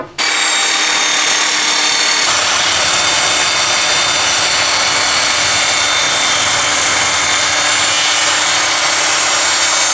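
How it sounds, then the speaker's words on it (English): A budget table saw spins up loudly and cuts a 45-degree miter through plywood, a sustained whining roar held steady for several seconds, close and dominant. "We'll lock the miter gauge off at 45 degrees and make a 45-degree cut on a piece of ply."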